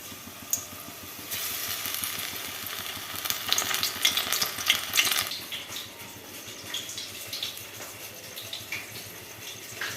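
Fish chops coated in gram flour and semolina fry in hot oil, a steady close sizzle with a louder crackling burst in the middle that settles back to a lower hiss.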